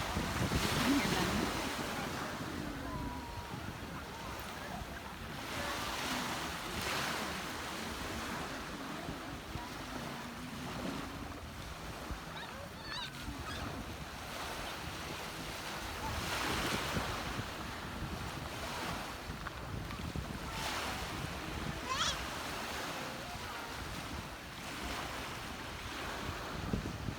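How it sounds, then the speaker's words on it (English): Ocean waves wash onto a beach at sunset in a steady, broad surf roar with periodic swells, mixed with gusty wind buffeting the microphone; no one speaks. "those of you who wanted to just listen to the waves"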